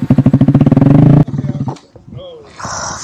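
A Grom motorcycle ridden by a beginner revs loudly and close, a rapid pulsing engine note that cuts off abruptly partway through, followed by muffled voices and rustling.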